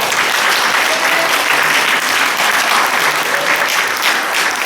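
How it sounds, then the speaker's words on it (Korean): A church congregation at a Korean Presbyterian Sunday service applauds its young adults; dense, loud, sustained clapping fills the room evenly for several seconds with no voices over it. "박수 한번 주시나요?"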